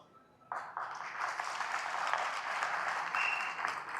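An audience at a Telugu pre-release event for a streaming series bursts into applause after a quiet moment, and the dense clapping stays steady and full to the end.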